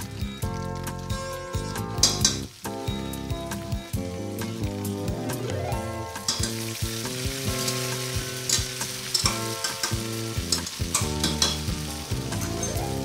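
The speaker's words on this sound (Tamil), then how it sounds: "இதில் வெங்காயத்தை போட்டுக்கிறேன் நல்லா வதக்கலாம்" Onions frying and being sautéed in a pan for vegetable biryani, with a continuous sizzle and stirring sounds running under prominent background music.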